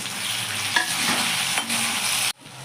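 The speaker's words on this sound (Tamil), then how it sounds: "1 வெங்காயம் வதங்கிட்டு இருக்கும் போதே ஒரே ஒரு தக்காளி போட்டு அப்படியே நல்லா வதக்கிக்கோங்க." Onion and tomato sauté in a pan for a brinjal and drumstick dish, a dense, even sizzle with a couple of stirring scrapes before it cuts off abruptly near the end.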